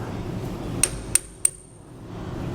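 Three sharp metal hammer strikes land on a bolt to drive a rubber equalizer bushing out of a tandem-axle trailer. The blows are evenly spaced about a third of a second apart, close and loud over a low background rumble.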